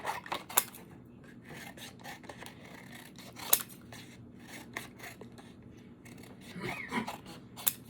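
Scissors snip through greeting card stock to cut out small pieces for Halloween gift tags, with a few sharp, close cuts and soft paper rustling in between.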